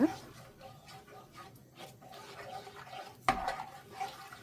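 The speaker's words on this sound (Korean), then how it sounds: "양념을 잘 섞어줍니다." Spoon stirring gochujang seasoning sauce with corn syrup and water in a pan on a gas stove, soft scraping and a sharp clink of the spoon against the pan, with quiet background sound.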